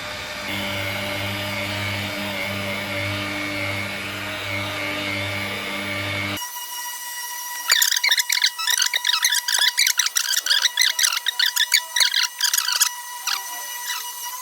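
A polishing machine whirs steadily at a low setting on car paint during local paint correction with compound, then drops out and gives way to rapid, irregular squeaking and scraping bursts up close.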